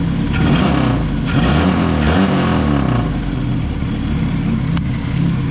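A Saab Sonett engine runs loud with no air cleaner fitted, a rough, steady, throaty drone close by that rises and dips slightly as it revs, with no gaps.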